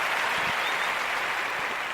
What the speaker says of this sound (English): so we want to give them a round of applause